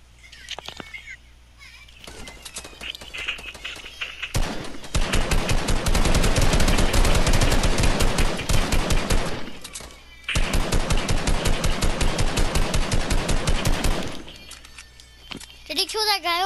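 Fortnite gunfire: sustained bursts of rapid automatic fire, loud and close, in two long volleys separated by a brief pause, with scattered single shots and players talking around them.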